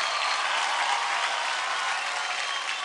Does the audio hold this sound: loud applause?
yes